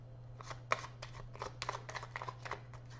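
Tarot-style cards shuffled during a card reading, a quick run of soft riffling flicks and taps, close and faint over a low steady hum.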